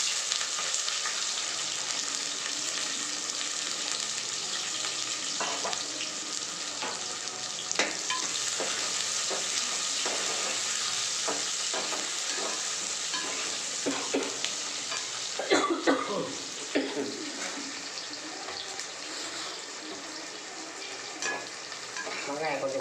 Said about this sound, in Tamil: வெந்தயம் பொரிஞ்சவுடனே பூண்டும் வெங்காயமும் சேர்ந்து போட்டு வதக்கணும்.